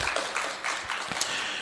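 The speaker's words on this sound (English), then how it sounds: "A round of applause, ladies and gentlemen." Audience applause at a national dialogue event on the right to food in Malawi, a brief burst of steady clapping from a crowd in a hall, fairly loud and continuous.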